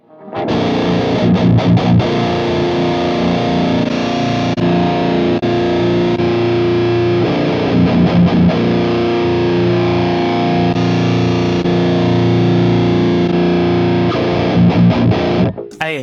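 Distorted metalcore electric guitar through a Fractal FM3 with a 121 ribbon mic cab sound, chugging palm-muted riffs and sustained heavy chords, loud and close, played alone without talking.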